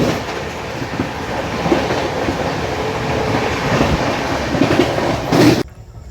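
Tamil Nadu SK Express train running on rails, a loud continuous rumble with rhythmic clickety-clack of wheels heard from on board, ending in a sudden drop.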